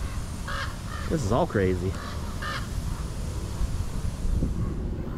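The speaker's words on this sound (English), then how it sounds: "the crows are out here screaming today" Several crows caw loudly in a cemetery in Colma, California, with harsh repeated calls near the start and fainter ones later, over wind noise while someone speaks briefly.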